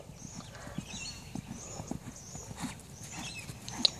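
Horse hooves clip-clopping steadily during a jumping lesson in an equestrian arena, a rhythmic, fairly faint beat with light background noise.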